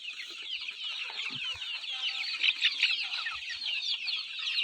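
Several rural native country chickens on a farm cluck steadily and busily throughout, with overlapping calls at close range and no talking.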